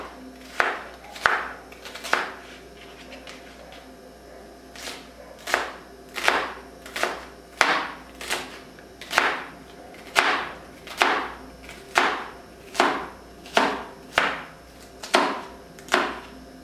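Knife chopping half an onion on a cutting board, a steady series of about twenty crisp, close, evenly spaced chops with brief pauses and no talking.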